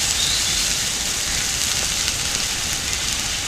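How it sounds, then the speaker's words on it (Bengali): Grated onion sizzles and crackles steadily in a hot pan during Bengali puti fish curry cooking, a continuous bright hiss close by with no talking. "ঘষে রাখা একটা পেঁয়াজ দিয়ে দিলাম। নেড়ে চেড়ে নিচ্ছি।"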